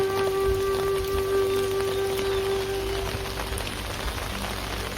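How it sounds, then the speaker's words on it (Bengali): Steady rain falls across a village in a dense, even patter of drops hitting surfaces, with a faint sustained hum under the downpour for the first few seconds. "আজকে দেড় মাস ধরে খালি বৃষ্টি হইতেছে"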